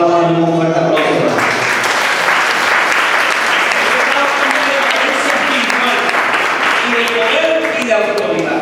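A church congregation bursts into loud applause during a sermon, dense clapping that starts abruptly after a voice and stays strong and steady throughout, with a little speech and tonal sound at the edges.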